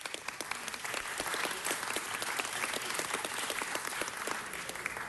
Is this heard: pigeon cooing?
no